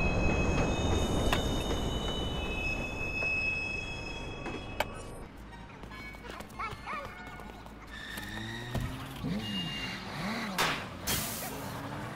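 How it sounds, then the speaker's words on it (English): An arriving train pulls into a station in the video game Watch Dogs, a steady rumbling bed of rail noise with brief squeals and clatter that continues throughout, with no talking. "Westbound train arriving shortly."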